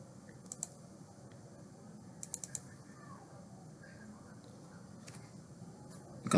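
A computer mouse clicks during on-screen beam measurement in Planswift, with a few faint, sharp clicks in small clusters over a quiet room hum.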